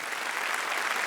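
An indoor audience claps steadily at a language month launch event, a short dense burst of applause filling the room.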